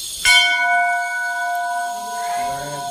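A temple bell at an old Shivaji-era shrine gives one bright metallic strike whose ringing tones hang and slowly fade over a few seconds, close and clear.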